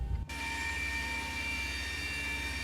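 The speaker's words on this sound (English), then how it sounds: "And here's engine number 1, it's spinning." Boeing 737-800 engine in the X-Plane 11 flight simulator, spooling up during an engine start: a loud, steady turbine whine with bright sustained tones and a low rumble, starting abruptly after a brief thump.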